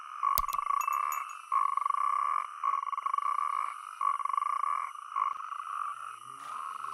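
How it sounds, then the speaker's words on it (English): Natterjack toads croak in a loud, rolling, repeated trill, pulsing in long bursts with short gaps, close and clear. "the natterjack toads crowd together to mate. A strong croak is a sign of tip-top health"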